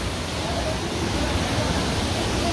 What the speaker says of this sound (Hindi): यहाँ झरना है. मल्टी लेवल्स झरने के